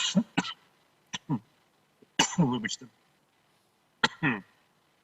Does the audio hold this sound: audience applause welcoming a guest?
no